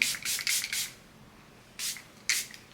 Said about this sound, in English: I'm gonna use the powder melt spray.